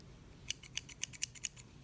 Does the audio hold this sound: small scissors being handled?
yes